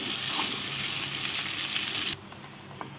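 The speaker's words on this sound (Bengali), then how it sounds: "নেড়ে চেড়ে দিচ্ছি" Pasta stirred in a hot pan, a steady sizzle with soft scraping that drops sharply to a faint hiss near the end, no talk.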